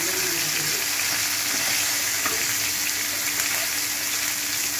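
Black cumin seeds and chilli tempering in hot oil for dal, giving a steady broadband sizzle that holds level throughout, close and fairly loud, with a few small pops and no talk.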